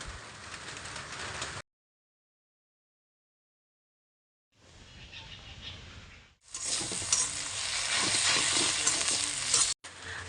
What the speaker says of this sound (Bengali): এইখানে আমি ভাজছি দেখো রসুন পেঁয়াজ ফোড়নে দিয়ে পাট শাক ভাজা